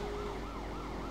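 A police car siren in GTA San Andreas wails in quick repeating up-and-down sweeps over a low engine drone, moderately loud and close, with no talking.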